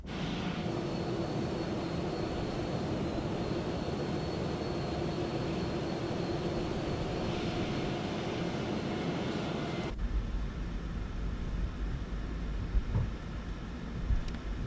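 Boeing 737 engines during a night flight to Geneva, heard from inside the cabin as a steady broadband roar that holds unbroken throughout. The tone shifts audibly partway through.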